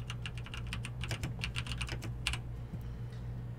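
Quick, light taps on a computer keyboard, a run of about twenty crisp clicks in an uneven typing rhythm over a low hum, trailing off into a few final taps.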